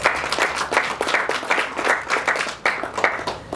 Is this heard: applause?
yes